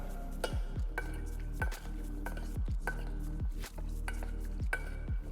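Ceviche is tossed in a bowl with steady, rhythmic strokes, each pass scraping and knocking against the bowl about once a second, close and moderately loud with no talk.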